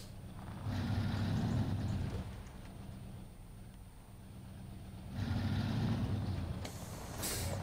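A heavy truck rumbles and strains as it crawls over rocks beside a blocked track, its low engine swelling in two loud surges with a brief hiss near the end.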